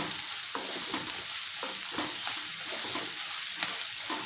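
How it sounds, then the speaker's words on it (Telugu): Chopped carrots and capsicum frying in a pan for a mixed vegetable omelette, a dense continuous sizzle with regular spatula stirring strokes, close and alone. "క్యారెట్లు, క్యాప్సికమ్ కూడా వేసేసుకుందాం. ఇవి కూడా బాగా వేగాలి."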